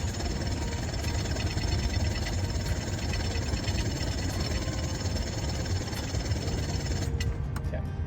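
A two-stroke carburetted marine outboard motor on a sailboat churns and knocks under key-cranking, a loud, close, steady mechanical rattle that cuts off abruptly near the end.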